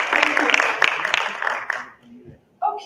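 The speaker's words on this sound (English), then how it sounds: "I want you to clap for yourself" A dense burst of clapping from a crowd fills about two seconds, then fades out, and a voice follows at the end.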